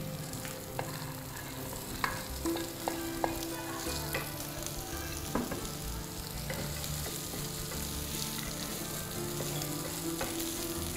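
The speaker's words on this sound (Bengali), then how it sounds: "ভেজে এখন সবজিগুলো ছেড়ে দিব" Vegetables fry in a pan after a spice paste has been cooked down, giving a steady sizzle with scattered sharp pops and occasional utensil clicks, close and continuous throughout.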